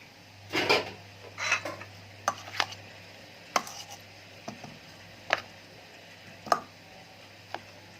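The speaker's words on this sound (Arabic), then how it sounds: "ونحط الجبنه القديمه، ونقلب بقى كله كده ببعض" Scattered scrapes and clinks of a utensil stirring white cheese and homemade aged cheese together in a pan, a few sharp knocks spaced out over quiet background with a low steady hum.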